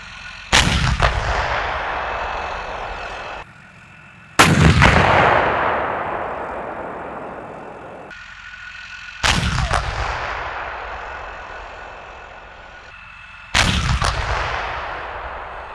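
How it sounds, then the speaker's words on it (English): Four loud, sharp blasts from a Leopard tank's main gun during a live firing exercise, each followed by a long rumbling decay, spaced several seconds apart with no talk. "doing live firing exercises and such."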